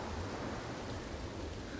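Steady rain storm in the video game Senua's Saga: Hellblade II, a dense continuous hiss with low rumble underneath, fairly quiet and uniform throughout with no talking.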